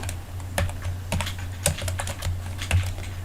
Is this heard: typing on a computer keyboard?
yes